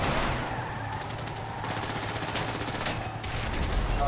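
Automatic gunfire rattles in bursts during a GTA Online heist shootout, moderately loud over a low rumbling game backdrop, with rapid repeated shots throughout.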